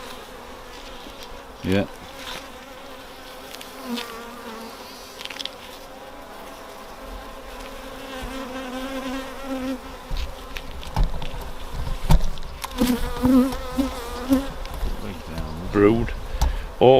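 Honeybees buzz continuously during a colony inspection, a dense, droning hum close by that swells louder in the second half, with brief voices and handling knocks breaking through.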